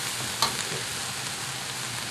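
Onion wedges frying in a wok give a soft, steady sizzle with a faint clink of utensils, quiet and close, and no talk over it.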